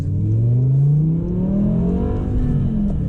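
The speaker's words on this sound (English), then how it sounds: "this V10 sounds more of a race car than the V10 in my R8" A BMW M6 with a V10 engine revs loudly and continuously, its rising and falling harmonic engine note dominating the whole stretch without any talk.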